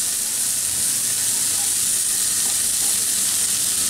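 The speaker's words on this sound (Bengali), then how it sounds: "আমি কিন্তু এখন হাই হিটে ভাজতেছি" Onions fry on high heat in a pan with a little salt, a dense, steady sizzle and hiss filling the whole stretch, loud and close with no break.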